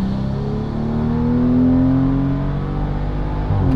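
A car accelerating hard on Mickey Thompson drag radial tires, its loud engine note rising steadily through a gear in one continuous pull with no tire spin, close and alone without talk.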